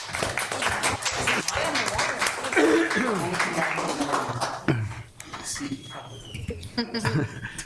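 An audience applauds at a meeting, with a dense patter of claps mixed with a voice speaking over it, fading into a lull before the claps pick up again near the end.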